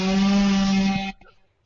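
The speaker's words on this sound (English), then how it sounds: "Sounds like you got the chainsaw out." A chainsaw running next door gives a loud, steady buzzing whine for about a second before cutting off abruptly, leaving near silence.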